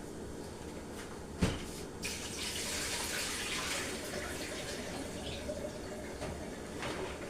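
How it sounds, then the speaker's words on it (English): Water poured off a washed cow foot in a kitchen while preparing Jamaican cow foot soup: a steady, broadband splashing rush that runs throughout, with one sharp knock near the start. "Let me throw off some of the water"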